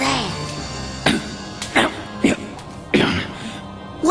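Cartoon character's throat clearing and coughing in an animated Sonic the Hedgehog episode: a few sharp, close bursts spaced across a few seconds, over quiet background music.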